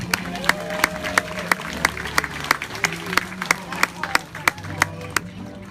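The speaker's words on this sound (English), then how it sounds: "please, a round of applause for our Royal Court of Hawaii" Applause and scattered clapping from a crowd greet the Royal Court of Hawaii during a canoe pageant procession, with sharp claps standing out over steady background noise.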